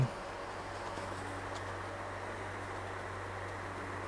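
A steady, broad whoosh of a Hatari 8-inch HT-PS20M1 cyclone desk fan running at top speed, with a constant low hum underneath, fairly quiet and unbroken throughout.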